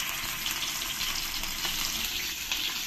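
Katla fish belly pieces fry in hot oil in a nonstick pan, giving a steady, close crackling sizzle that holds evenly throughout with no voices.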